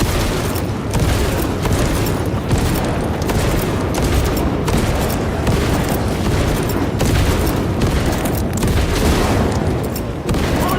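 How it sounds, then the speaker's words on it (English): A frag grenade blast in Warhammer 40,000: Space Marine 2 booms amid a constant barrage of heavy gunfire and explosions, loud and dense throughout with no pauses. "Frag grenade out."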